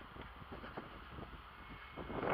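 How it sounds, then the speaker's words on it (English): Wind buffets the microphone in low, rumbling gusts, growing stronger toward the end, with no voices. "It's so windy."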